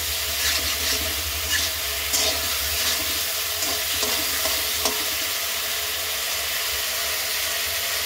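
Spice paste for a fish curry sizzles and fries in a pan while being stirred, a constant hiss with intermittent scraping and clinking strokes of the spoon, close and steady with no talking.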